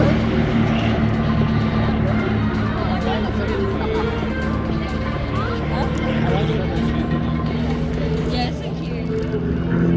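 Royal Jordanian Falcons aerobatic planes fly a formation display at RIAT air show, a continuous loud engine roar and drone filling the whole stretch while an announcer's commentary and crowd murmur run over it.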